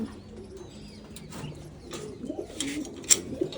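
Pigeons coo softly in a home loft, low murmuring calls repeating under faint background noise, with a couple of sharper flutters or clicks near the end.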